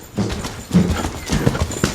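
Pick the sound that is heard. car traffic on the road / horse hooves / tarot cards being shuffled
horse hooves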